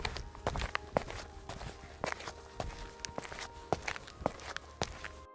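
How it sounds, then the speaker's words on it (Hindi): Footsteps of a man walking up in a village, a run of distinct, evenly paced steps, moderately close and fairly quiet, with no talking. "तभी उसे दूर से गांव के मुखिया के आने की आहट सुनाई देती है।"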